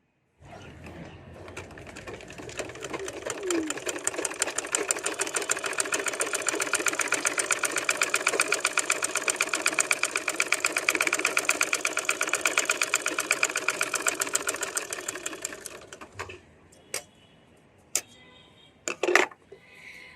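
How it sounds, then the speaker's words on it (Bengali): A sewing machine stitches fabric in a fast, even mechanical clatter for about fifteen seconds, then stops. A few separate clicks and knocks follow as it is handled. "আমি এখন আরেকটা সেলাই দিয়ে দেখবো যে আসলে আমার পারফেক্ট সেলাইটা হচ্ছে কিনা"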